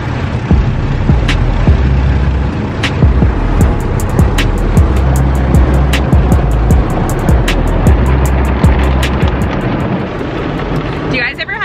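An automatic car wash runs over a car, seen from inside: loud, steady roaring spray drums on the body and windows, with scattered thumps and clicks from the machinery. The noise continues throughout without pause.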